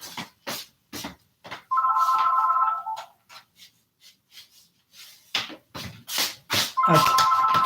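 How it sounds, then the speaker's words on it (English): A telephone rings in two bursts of steady electronic trilling, each lasting about a second, set among a speaker's ongoing talk and lively studio sounds. "I don't know why the phone is ringing"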